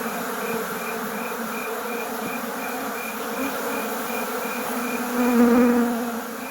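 Dense, continuous buzzing of many honey bees around an open hive during a frame inspection, close by, a steady droning swarm that swells briefly louder near the end.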